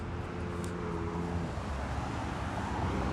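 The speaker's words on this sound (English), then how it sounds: "All right, heavy traffic here." Heavy road traffic between North Hollywood and Burbank, heard as a steady, loud wash of engine rumble and tyre noise with no pauses.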